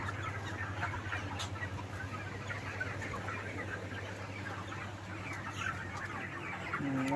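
Broiler chickens clucking inside a contract broiler farm shed, birds around 32 days old, with scattered overlapping clucks over a steady low hum of background machinery.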